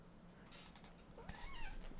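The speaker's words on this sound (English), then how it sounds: "There's a cat that is in need right now." A lonely cat gives one drawn-out meow near the end, fairly faint, over soft room noise and a few rustling knocks, with no speech during it.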